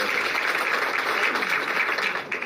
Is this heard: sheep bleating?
no